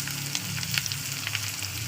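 Carrot pieces frying in a hot pan give a steady, fairly loud sizzle with a few brief stirring clicks, no voices.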